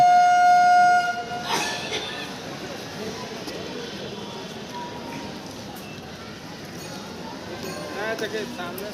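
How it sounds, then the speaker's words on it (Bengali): A twelve-car electric passenger train pulls out of a station, its steady rumble and clatter building after a brief tonal signal at the start, with a voice talking over the noise. "দেখুন সামনেও দিকেও ট্রেন সিগন্যাল দিল ট্রেন ছেড়ে চলেছে দেখুন"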